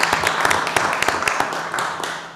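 A small group at a city council meeting claps briefly, a dense patter of hand claps in a room, close and steady for about two seconds before trailing off.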